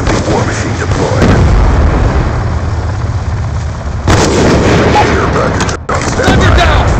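Heavy booming explosions from War Machine grenade launcher rounds in Black Ops 2 multiplayer, a dense continuous roar of blasts and gunfire with sharp bursts and brief gaps, loud and close.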